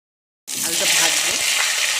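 Cumin seeds and a pinch of asafoetida hit hot oil and fry gently, starting abruptly with a steady, close bright sizzle that holds to the end.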